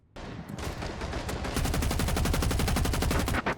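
Rapid automatic gunfire in the Rainbow Six Siege video game, a loud, close, sustained burst of evenly spaced shots that runs almost unbroken for several seconds before a brief pause and a final few rounds.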